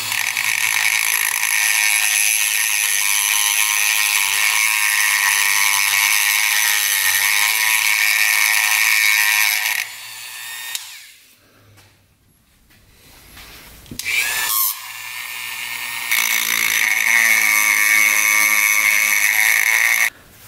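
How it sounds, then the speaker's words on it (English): A grinder works down the intake valve of an old barn-find mini bike engine, a loud, high, steady whine that drops away for a few seconds in the middle and then resumes. "All right, here's the intake valve right here. Just gonna grind a little bit of that off."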